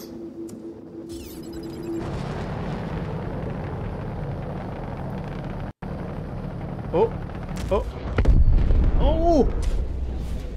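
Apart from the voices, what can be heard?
enemy reclaimer ship exploding in video game Star Citizen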